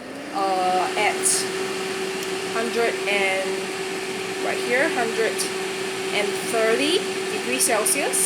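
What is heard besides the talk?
air fryer cooking rosemary-marinated chicken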